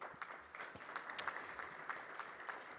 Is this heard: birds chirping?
no